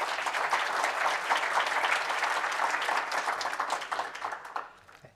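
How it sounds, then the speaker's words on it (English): A forum audience applauds panelists at a downtown business event, dense sustained clapping from a crowd that fades out over the final second. "Let's give them another round of applause."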